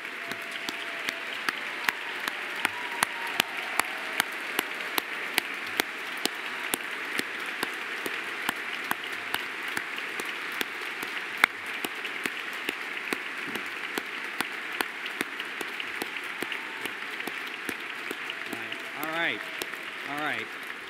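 Steady applause from an awards-ceremony audience fills the whole stretch, dense and even with no break, a few sharper claps standing out near the end.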